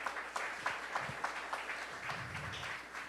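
Applause breaks out at a city council session in Areia, Paraíba, saluting community health agents: a faint, distant crowd clapping with scattered louder claps, steady and fairly quiet throughout.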